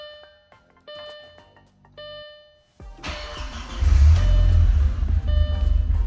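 Dashboard warning chimes ring out, then a car engine cranks, catches and rumbles loudly and unevenly at idle, running roughly nearby with no talk; the engine is being checked for compression and fuel delivery.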